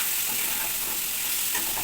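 Curry sautéing with plenty of garam masala in a pan, a steady close sizzle and frying hiss running throughout with faint stirring, no voices.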